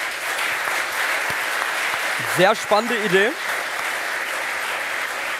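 Studio audience applause on a German sports talk show, a broad steady clatter of clapping running throughout, with a voice speaking briefly over it in the middle.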